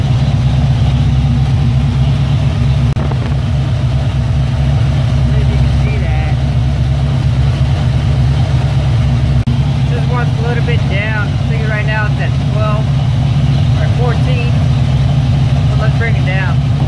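A 1978 Pontiac 400 V8 idles steadily close by, a loud continuous low rumble with a faint ticking, while someone talks over it.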